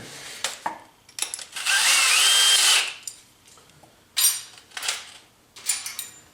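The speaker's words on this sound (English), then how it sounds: "open up my hole in this sheet metal bracket so that the hole is a, where's my screw, is a clearance hole" An electric drill with a 5/16 inch bit whines loudly through a sheet metal bracket for about a second, preceded and followed by clanks and scraping as the piece is handled.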